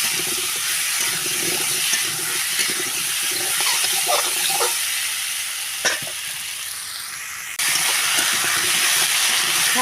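Steady sizzling hiss of spices frying with salt and turmeric in a pan, with a few scraping stirs around the middle and the hiss swelling louder near the end, no voices.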